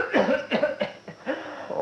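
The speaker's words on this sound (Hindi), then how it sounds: "ये भगवान, ये खांसी" An old man coughing from a nearby room, with about five harsh, throaty bursts in quick, uneven succession, fairly close and clear.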